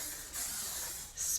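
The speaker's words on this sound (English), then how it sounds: "Very light spray." Hairspray misted lightly over freshly curled medium-to-long hair in a few short, soft hissing bursts, close to the mic, with a brief pause between the sprays.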